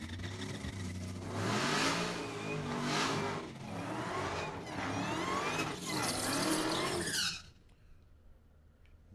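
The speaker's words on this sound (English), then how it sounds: "Not a bad burnout from that left lane, making a little bit of noise from that supercharger." Supercharged 2018 Dodge Demon drag car doing a burnout at a drag strip, a loud sustained engine roar with rising revs, supercharger whine and tire squeal for about seven seconds before cutting off to quieter track ambience.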